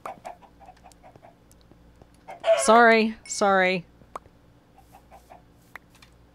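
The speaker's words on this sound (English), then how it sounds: "That's a chicken." Chickens in Minecraft give two clear, close clucking calls midway through, with faint game ambience before and after and a single brief spoken word.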